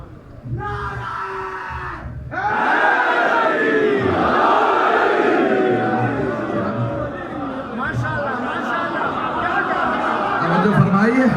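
A large crowd at a Muharram mourning gathering in an imambargah in Lahore roars back a slogan in unison, loud sustained shouting that swells and holds after a speaker's call.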